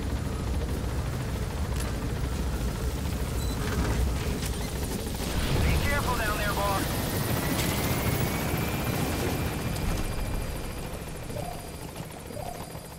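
A Metal Gear Solid 5 helicopter holds a steady, loud rotor drone with a low engine rumble, joined by clanking and a rising whine midway before easing slightly near the end; no one talks.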